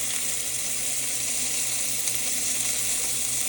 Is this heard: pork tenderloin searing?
yes